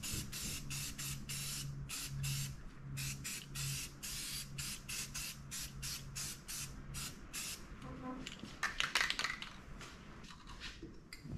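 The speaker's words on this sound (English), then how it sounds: "So I'm gonna go ahead and paint this for real quick, and then we'll bolt this on." A spray can lays paint onto brake brackets for a 1970 Chevelle in a run of short, close hissing bursts separated by brief pauses, with a faint clatter near the end.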